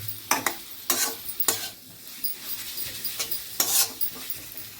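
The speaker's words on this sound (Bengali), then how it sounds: "তো 1 মিনিট টমেটোকে ভালো করে আমি একটু ভাজলাম" Tomatoes and spices frying over a low flame, with bursts of sizzling and scraping stirring strokes that come in uneven pulses close by.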